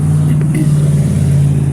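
Vehicle traffic passes along a nearby road, a loud steady low rumble of engines continuing throughout.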